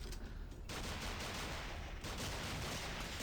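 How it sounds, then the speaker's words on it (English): A relentless, loud fusillade of automatic weapons fire in the Sift Heads World video game, amid bazookas, grenades and flashbangs, roars as an unbroken wall of shots and blasts with no voices over it. "Wow, there's so much gunfire."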